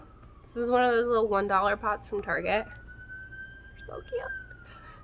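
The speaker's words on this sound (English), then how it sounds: "Sorry for the sirens outside." Emergency vehicle sirens wail faintly from outside, a long steady tone running beneath close indoor talk.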